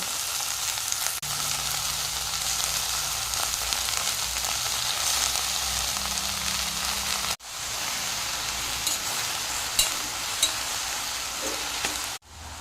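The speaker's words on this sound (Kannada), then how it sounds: "ಇವಾಗ ಕಟ್ ಮಾಡಿದ ಸೊಪ್ಪನ್ನು ಹಾಕ್ತೇನೆ" Chopped greens frying in a hot pan, a steady loud hiss and crackle that runs almost unbroken, with faint scraping stirs and two brief drops in the sound.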